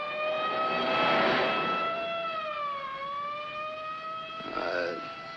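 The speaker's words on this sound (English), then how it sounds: "It's an ambulance." Ambulance siren in a 1951 film scene, a clear wailing tone sweeping slowly down and back up, moderately loud and alone, with no talk over it.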